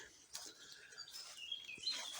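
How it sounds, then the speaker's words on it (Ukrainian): Faint, scattered chirps from small birds singing in a rainy forest, brief high calls over a quiet wet background. "пташки співають, якісь звуки лісні незрозумілі"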